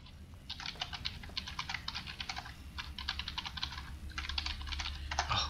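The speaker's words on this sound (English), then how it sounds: "I'm going to type in my channel." Bursts of rapid typing on a computer keyboard come in clustered runs of keystrokes with short pauses between, close and clear over a low background hum during a StarCraft 2 session.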